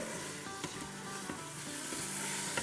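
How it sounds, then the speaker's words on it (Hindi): A shola mixture roasting in a pan gives a steady, quiet sizzle with faint clicks of stirring throughout, and no one talking. "बस इसे हम 2-3 मिनट तक अच्छे से भूनेंगे।"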